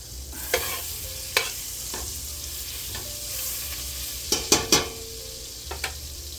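Pheasant meat sizzles in melted butter in a pan with salt, pepper, garlic, thyme and bay leaf, a soft steady fry broken by sharp scraping knocks of a utensil stirring every second or so.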